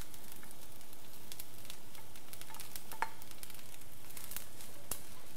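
Egg hits pineapple fried rice in a hot pan and sizzles softly and steadily. Faint stirring scrapes and a few light clicks sound over the fry, with no voices.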